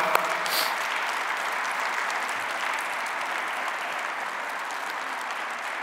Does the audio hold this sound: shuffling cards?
no